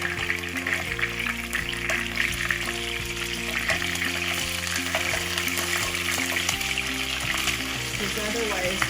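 Chicken pieces fry in a pan for Kapampangan adobo, a steady dense sizzle with crackling spatter running throughout, loud and close, alone with low background tones.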